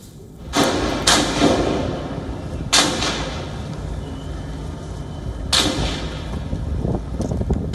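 Gunshots inside the Karachi Stock Exchange during an armed attack, several sharp reports spaced a second or more apart, loud and echoing within the building, no talk.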